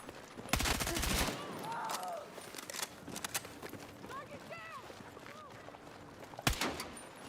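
Gunfire in the video game Battlefield 6: loud bursts of automatic fire crackle at the start, sporadic shots and thuds follow, and a sharp report lands near the end, with chirpy game effects and a player talking over the action.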